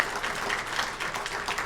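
An audience applauds to thank physicians after a talk on heart attack symptoms in men and women: dense, steady clapping from a crowd, moderately loud and continuous throughout, with no one speaking over it.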